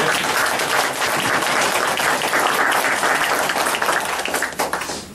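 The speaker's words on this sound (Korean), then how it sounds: "네, 박수로 좀 맞이해주세요." Sustained applause from a lecture-hall audience welcoming an Oriental-medicine lecturer, dense steady clapping that fills the whole stretch and thins slightly near the end.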